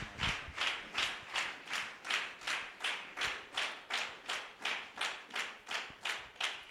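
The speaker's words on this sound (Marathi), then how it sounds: "आपण त्यांच्याकरता टाळ्या वाजवून स्वागत करूया." A church congregation at a Sunday service claps together in steady unison, about two claps per second, an even rhythmic beat throughout with no talking.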